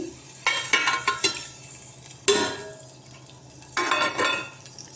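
Mustard seeds, chana dal, urad dal, cumin and fenugreek crackle in hot oil in a cooker pot. Sizzling bursts come in several separate clusters, with a spoon scraping and clinking against the metal.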